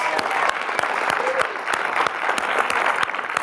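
A London premiere Q&A audience applauds steadily for several seconds, dense clapping that fills the room with a few sharper claps standing out.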